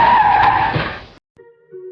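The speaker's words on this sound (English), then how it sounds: "A car mounting the pavement." A car skids up onto the pavement in a loud, harsh screech lasting about a second, which cuts off abruptly into near silence before a faint, thin tone follows.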